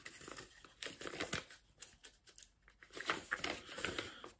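A piece of paper is crumpled close up in a quiet room, a series of crisp crinkling and tearing crackles in irregular bursts, fairly soft, with no one talking.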